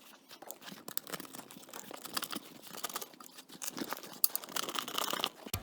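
A loudspeaker cone folded up by hand during a recone: close, continuous crinkling and crunching of stiff paper-like material, busy and irregular, growing slightly louder toward the end.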